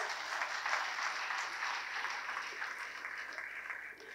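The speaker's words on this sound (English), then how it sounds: "A big round of applause." A large audience applauding at a university felicitation ceremony, dense continuous clapping that stays even throughout and tapers slightly toward the end, heard from a distance.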